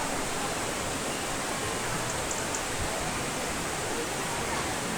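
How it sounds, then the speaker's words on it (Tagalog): A green, clear river rushes steadily past a camping area, a constant broadband hiss of flowing water with no pauses and no one talking. "Maganda yung flow ng tubig ngayon."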